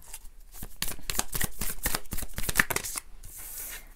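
Tarot cards are shuffled and dealt for a card reading, giving quick close riffling and flicking snaps in an uneven run of bursts, with a softer papery sweep at the end.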